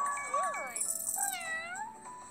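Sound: kitten meowing in a baby tiger care video game

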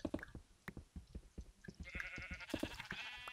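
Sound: sheep bleating in Minecraft video game

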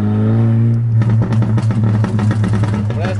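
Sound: two-stroke motorcycle engine revving with popping exhaust

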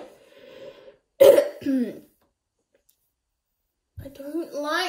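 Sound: coughing

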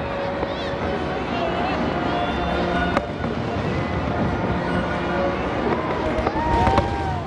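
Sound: fireworks salute

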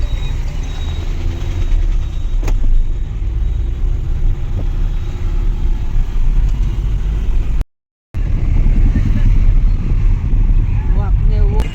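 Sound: car driving

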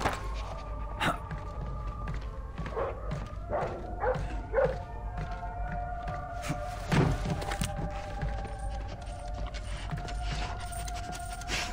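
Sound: dog barking in the video game Splinter Cell Blacklist

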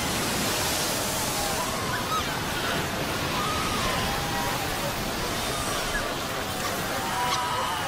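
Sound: ocean waves washing in with the tide

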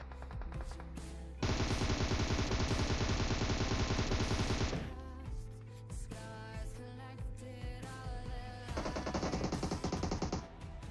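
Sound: gunfire in a video game

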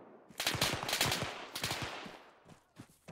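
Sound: gunfire in the video game Arma 3

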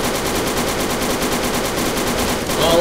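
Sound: big gun firing in video game Fallout 3

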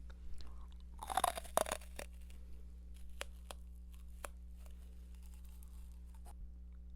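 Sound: chewing a hard jelly candy from CU convenience store

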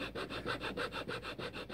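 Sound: sanding carved wood

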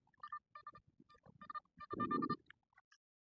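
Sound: metal detector signal

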